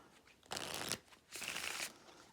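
Playing cards being shuffled for the tavern card game Little Tavern, two quick riffle shuffles close up, each a dense half-second flutter separated by a short pause.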